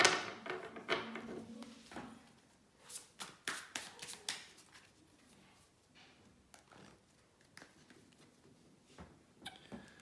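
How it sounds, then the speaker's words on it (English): Tarot cards being shuffled by hand, bursts of papery riffling and soft taps in irregular clusters, close and fairly quiet. "let me shuffle the cards"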